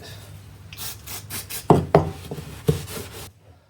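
Small brush scrubbing dirty rear shock absorber parts from a Jaguar XJ40, a series of short close rasping strokes, some sharper, then stopping.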